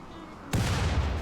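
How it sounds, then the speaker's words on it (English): A grenade goes off in the RimWorld video game: a single sudden, loud, booming blast with a deep rumbling tail, following a quiet background. "I'll just get it with another grenade."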